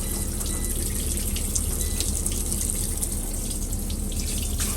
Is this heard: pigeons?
no